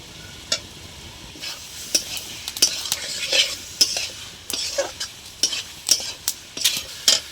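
Prawns being stirred in a frying pan with taro stolons (kochur loti), a spatula scraping and clinking in repeated strokes over a steady sizzle, close and alone without talk.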